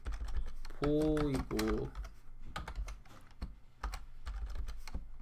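Code being typed on a computer keyboard: irregular bursts of sharp key clicks and clacks close by, while someone talks over and between the keystrokes.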